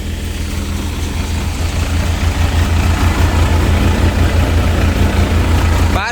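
A tractor engine held at about 1250 rpm drives a Param basket-model thresher threshing mustard, giving a loud, steady, low droning rumble that grows slightly fuller partway through and runs without a break.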